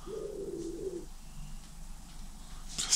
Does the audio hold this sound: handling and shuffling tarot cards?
no